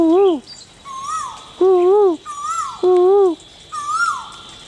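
Repeated loud, nearby bird calls with swooping, wavering tones come in regular bursts about every second, over a steady background hiss.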